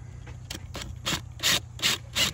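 A drill bit pushed through a template to mark a wooden footing on a post-and-beam house build, giving a series of short rubbing, rasping strokes that grow stronger toward the end, close and alone over a low hum.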